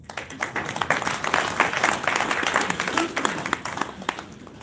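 An audience applauds a speaker at a talk on escalating conflict, a loud, dense patter of many hands clapping steadily for several seconds, fading slightly at the end.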